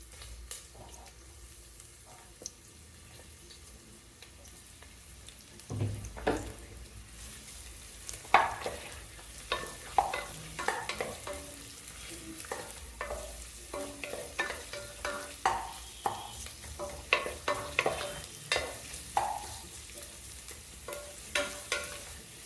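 Two medium onions, sliced long, fry in a pan for veg biryani with a soft background sizzle, broken by repeated clattering stirs and scrapes that grow more frequent after the first few seconds.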